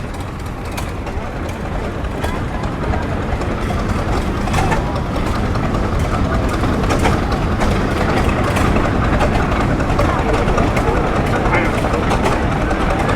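A Rumley OilPull tractor engine rumbles steadily and loudly throughout at a tractor parade, a dense low mechanical drone with constant texture and no clear breaks.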